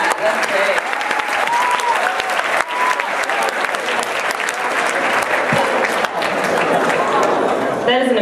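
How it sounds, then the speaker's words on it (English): A school audience claps loudly and continuously during a celebrity visit, dense applause from a crowd with voices and chatter mixed in throughout. "I'd like applause for that."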